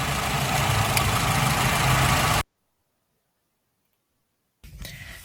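A bus engine idles with a steady droning moan from a failing alternator, loud and continuous for about two seconds, then cutting to silence before the rumble returns briefly at the end.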